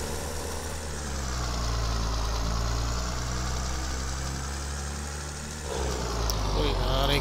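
The engine of a New Holland 3630 tractor in Farming Simulator 22 idles and chugs steadily and loudly, with a slight shift in tone near the end and no talking.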